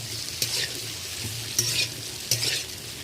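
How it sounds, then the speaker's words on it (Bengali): Chicken do-pyaza stirred and lightly fried in a pan at home, a steady sizzle broken by three distinct scraping stirs spaced about a second apart, close and moderately loud with no talking. "এবার এইটা একটু ভালো করে নেড়ে নেব, হালকা ভাজা ভাজা মতো করে নেব।"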